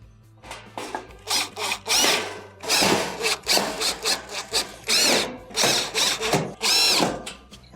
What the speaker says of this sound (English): Go around the perimeter and replace your screws.